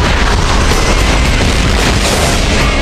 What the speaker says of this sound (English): And we fired three of these torpedoes,